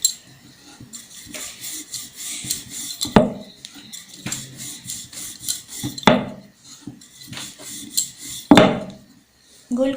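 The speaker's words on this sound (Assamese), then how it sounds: "গোলকৈ বেলিবলৈ যত্ন কৰিম।" Aloo paratha dough rolled out with a rolling pin on a board, giving soft repeated rubbing and scraping strokes in an uneven rhythm with a few sharper knocks, close and moderately loud with no talking.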